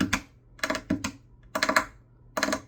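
Acoustic guitar struck with a percussive finger roll, several fingers escaping from under the thumb, giving sharp, bright bursts in quick clusters with a low body resonance, close and alone.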